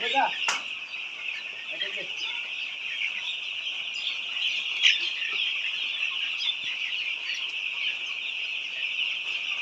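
White layer chickens on a poultry farm, a steady flock clucking and calling throughout, with a sharp cackle or two standing out near the start and midway over the continuous bird chatter.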